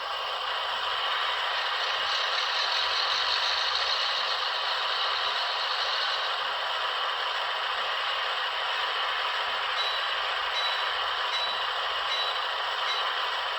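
A Rapido HO scale FL9 model diesel locomotive makes a sound-decoder start-up, a loud continuous mechanical hum with a high beeping tone near the end.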